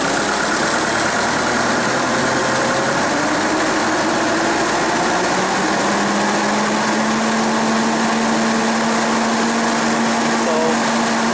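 A Hyster forklift engine with a low-power fault runs steadily and climbs in pitch as it is revved toward higher RPM, a loud continuous drone up close with a rising whine.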